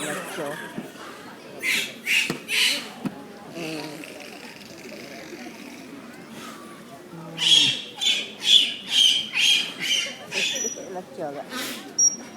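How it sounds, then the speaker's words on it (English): Dolphins at a dolphin show give bursts of high squawking whistles and chirps, in two clusters of repeated calls separated by quieter stretches, moderately loud with background crowd murmur. "you can hear the dolphins singing"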